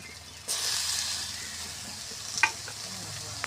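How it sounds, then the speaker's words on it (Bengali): Spiced masala with chopped tomatoes sautéing in a pan, a sudden burst of hissing sizzle as they go in, then steady frying with a single sharp spatula knock, no voices. "কেটে রাখা টমেটোগুলো দিয়ে দেব"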